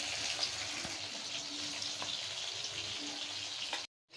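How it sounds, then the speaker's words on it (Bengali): Lentil fritters (dal bora) crisping in hot oil give off a steady, dense crackling hiss close by, with no voices, cutting off abruptly into silence just before the end. "মুচমুচে করে সম্পূর্ণ বড়াগুলো আমি ভাজা নিচ্ছি।"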